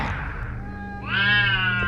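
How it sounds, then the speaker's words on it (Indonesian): A cat that darted across a road lets out one loud, close meow that rises and holds, heard alone over a low background hum. "Saat perjalanan aku dikagetkan oleh seekor kucing yang menyeberang secara mendadak."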